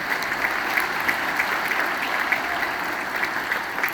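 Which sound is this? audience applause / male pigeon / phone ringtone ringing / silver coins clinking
audience applause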